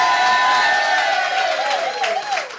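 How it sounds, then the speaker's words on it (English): A television studio audience applauding and cheering for comedian guests, a dense roar of clapping and shouts held loud and steady throughout. "Big round of applause for Neil the Wee Man Bratchpiece and for Chris Thorburn"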